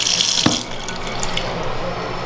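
Tap water runs steadily into a sink, a broad hissing splash with a brief knock near the start, fairly close.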